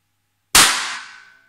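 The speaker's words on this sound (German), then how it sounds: "ich zeige jetzt bloß mal, wie es knallt" A single sharp shot from a small Derringer pistol cracks out loud and close after a short silence, then its ringing tail fades away over about a second.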